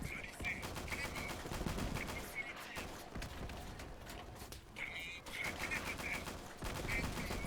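Rapid automatic gunfire crackles through a World War II battle in the video game Easy Red 2, repeated bursts of close shots laying covering fire toward a bridge, continuous and dense with a brief lull in the middle.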